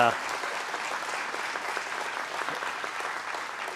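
A large audience at a corporate global town hall breaks into sustained applause, a dense steady patter of many clapping hands that holds evenly throughout without fading.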